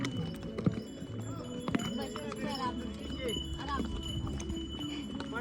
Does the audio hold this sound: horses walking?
yes